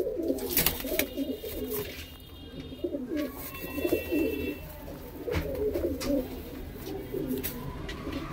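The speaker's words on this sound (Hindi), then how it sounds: "भाई आखिरी कबूतर ये है वीडियो का" A female pigeon, kept among birds for sale, coos in soft, throaty, repeated rolling phrases close by, with faint chirps and chatter in the background.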